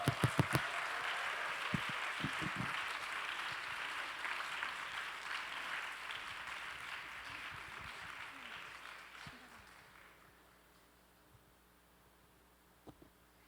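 A church young adults' gathering breaks into lively applause from a sizable audience, with a few sharp claps at the start, then a dense wash of clapping that fades out after about ten seconds into near quiet.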